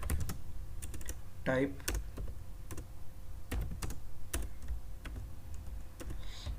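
Keys clatter on a computer keyboard while HTML code is typed, a quick irregular run of close, crisp clicks with short pauses between bursts, and no talking over it.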